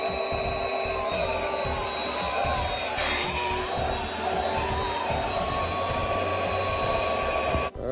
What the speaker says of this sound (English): Had multiple places to air it up. Pump works great.